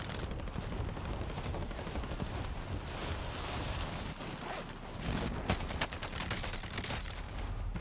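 Rapid Uzi submachine gun fire in Call of Duty: Warzone on the Caldera map, dense continuous crackling bursts that fill the whole stretch at steady loudness with no voices.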